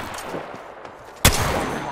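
Incoming gunfire in a video game: a sudden loud burst of shots hits at once and trails off into a dense, noisy rattle, after a stretch of quieter background ambience.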